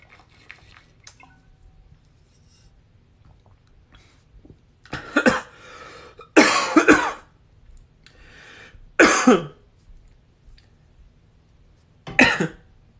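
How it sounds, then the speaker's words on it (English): Harsh, rasping coughs come in four separate bursts spread over several quiet seconds as a person recovers from choking on water, close and loud against a near-silent background. "Sorry, I just choked on my water."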